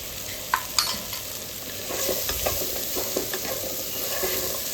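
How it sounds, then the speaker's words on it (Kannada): Spices, salt, turmeric and chili powder, sizzle in hot ghee while being stirred in a pan, a steady close frying hiss with occasional scraping clicks of the spoon. "ಉಪ್ಪು ಅರಿಶಿನ ಪುಡಿ ಖಾರದ ಪುಡಿ ಹಾಕಿ ಚೆನ್ನಾಗಿ ಅದನ್ನು ಫ್ರೈ ಮಾಡ್ಕೋಬೇಕು"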